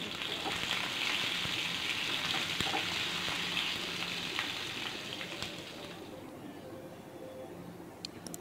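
Dried red chillies and curry leaves sizzle in hot oil for a peanut chutney tempering, a steady crackling fry that holds for several seconds and then fades away near the end.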